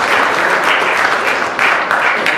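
An audience applauding a panel at an HBL PSL roadshow event in New York City, dense, loud, sustained clapping from a large crowd.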